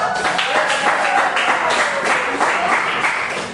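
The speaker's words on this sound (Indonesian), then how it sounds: "silakan tepuk tangan untuk kelompok" Sustained classroom applause from students for a group, a dense, steady wash of many hands clapping that holds evenly, with faint voices underneath.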